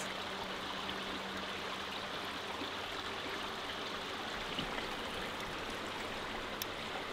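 A stream runs at Waterfall Gully, giving a steady, even rush of flowing water close by. It holds constant throughout with no voices.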